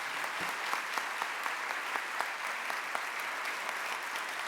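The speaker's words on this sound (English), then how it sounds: "Would you all please give our colleagues a round of applause?" An audience at a nursing conference's opening session claps in a steady, moderately distant round of applause that lasts several seconds without a break.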